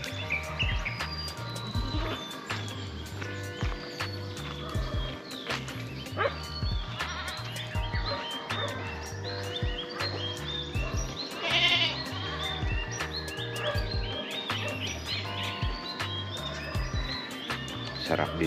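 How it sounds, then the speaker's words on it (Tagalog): Goats bleating in a rural Pangasinan province setting, repeated calls over a long stretch with birds chirping around them and a voice speaking at times. "mga kambing."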